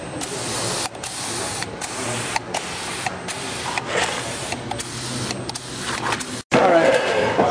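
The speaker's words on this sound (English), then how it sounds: "You can also adjust your gun to where you get a little bit bigger droplets if you want." A spray gun sprays texture onto a DIY fake stone build, giving a steady hissing rush in repeated bursts with brief pauses between them, close and fairly loud.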